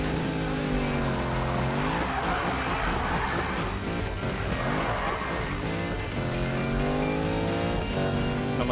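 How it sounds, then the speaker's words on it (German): Car drifting in the Need for Speed 2015 racing game, with a loud revving engine rising and falling in pitch and squealing, skidding tires in the middle, continuous and close. "Nochmal driften."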